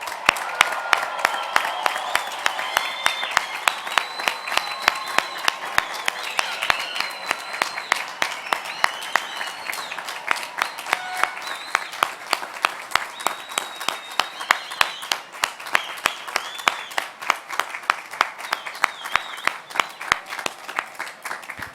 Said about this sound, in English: We invite everyone here to give a huge round of applause for the newest